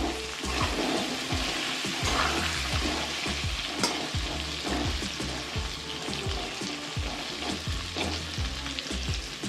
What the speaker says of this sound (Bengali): এবার আলুগুলো ভাজা ভাজা করব বন্ধুরা